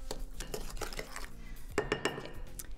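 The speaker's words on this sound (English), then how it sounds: "I'm gonna go ahead and give this a stir." A mixture containing organic brown sugar being stirred in a bowl, with quick clinking and scraping of a utensil against the dish, close and fairly quiet, a few sharper knocks near the end.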